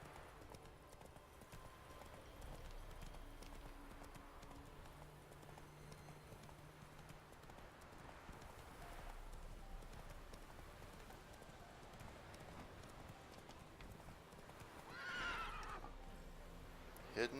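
A horse in The Witcher III: Wild Hunt on Xbox One clip-clops along at a steady pace under a constant ambient bed, giving a short neigh near the end; a voice speaks briefly over it.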